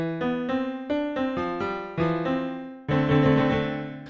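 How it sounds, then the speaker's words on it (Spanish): Yamaha Grand Piano virtual instrument plugin playing a clear sequence of struck notes and chords, each attack ringing and decaying, ending on a fuller sustained chord, with no voices. "nos hemos quedado por el Yamaha Grand Piano, que suena así"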